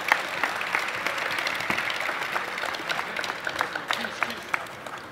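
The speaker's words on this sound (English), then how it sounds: "Let's give her another round of applause." Applause at a welcome reception in an auditorium after a singer's performance, with dense clapping that thins into scattered individual claps toward the end, and a voice partly over it.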